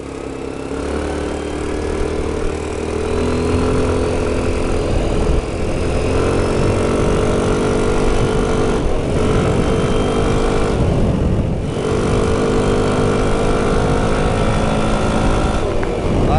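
A Linhai Navigator quad driven fast along a road, its engine droning steadily with shifting pitch throughout, loud and close, with occasional wind buffeting.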